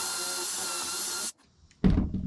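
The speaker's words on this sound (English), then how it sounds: "and then you drill your hole out" A power drill bores a pocket hole into wood through a clamped pocket hole jig for a bench, a loud steady whir that cuts off abruptly, then a short pause and another burst of drilling.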